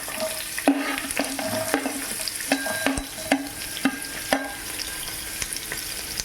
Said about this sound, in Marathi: मी यामध्ये कांदा जो आहे आपण जो मोठ्या साईजमध्ये कट केला आहे तो ॲड करते